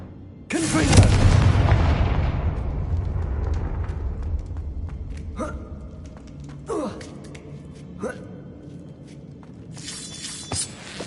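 A Confringo fire spell explodes in Hogwarts Legacy with a loud, deep boom that rumbles and slowly fades over several seconds. Sharper crackling impacts and debris hits follow at intervals, with no speech.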